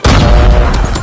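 Gunfire in a Call of Duty multiplayer match crackles as a loud, dense burst of booming shots, close and continuous for about a second with no talk.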